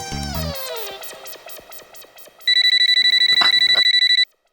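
A telephone rings in a home, a loud, rapid electronic trill repeating steadily for a couple of seconds, following a descending musical jingle, then cutting off abruptly.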